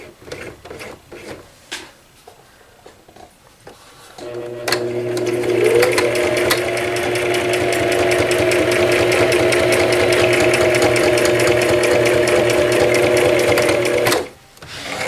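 Sewing machine stitching along the very edge of a cross stitch corner gauge pocket, running steadily and loudly for about ten seconds after a few soft handling clicks, then stopping abruptly.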